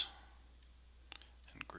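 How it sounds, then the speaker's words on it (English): A few faint, crisp computer mouse clicks against a quiet background, arriving as a short cluster after a near-silent stretch. "Right click and make default"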